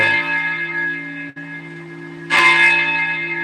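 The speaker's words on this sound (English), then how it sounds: "Church bell, huh?" A church bell tolls with a deep, ringing resonant tone that sustains and decays, then a second loud strike at about two and a half seconds swells out with echoing overtones, no talk.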